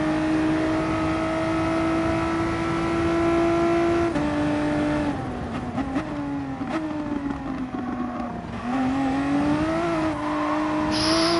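Volkswagen supersport race car at full throttle on the Nurburgring GP circuit in a racing game, its loud steady engine note climbing and dipping in pitch as it revs, with no talk.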